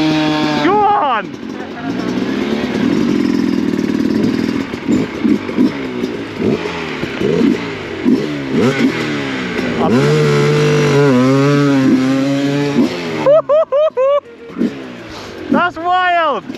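An enduro dirt bike engine revving hard and repeatedly, its pitch climbing and falling through several bursts, close and loud beneath people talking.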